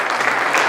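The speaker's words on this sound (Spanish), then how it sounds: "yo les pido que a esa gracia de Jesús le demos un fuerte aplauso esta" A church congregation applauding during a Christmas sermon, a dense, loud burst of many hands clapping together, steady and close throughout the short moment, with no voices over it.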